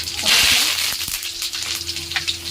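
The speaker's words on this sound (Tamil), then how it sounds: "கடுகு பொரியட்டும் கடுகு பொரிச்சுட்டு" Mustard seeds splutter and pop in hot oil at the start of a turkey gravy, a close, busy crackle of small bursts over a soft sizzle.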